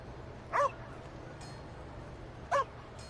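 A dog in a PS5 vampire-hunting game gives two short, sharp barks about two seconds apart over a quiet ambient background.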